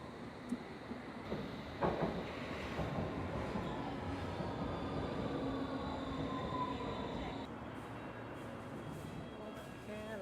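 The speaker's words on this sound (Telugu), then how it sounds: "ఇక్కడ నుండి ఇంకో ట్రైన్ ఉంది సేమ్ ప్లాట్ఫామ్" A train rumbles through a station with a steady low roar and faint squealing wheels, a brief clank near the start, heard from the platform.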